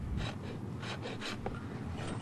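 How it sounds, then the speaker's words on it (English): A farrier's rasp, held on its edge, scrapes a horse's hoof during trimming and shoeing, giving several steady, close, rhythmic rasping strokes with no talk. "You can then take your rasp, put it on its edge"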